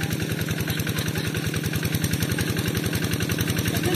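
A farm tractor engine idles close by with a steady, rapid chugging pulse, loud and unchanging throughout.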